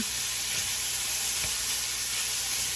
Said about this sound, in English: I'm not the best at frying bacon, so it's kind of nice that you just kind of chop this up and fry it.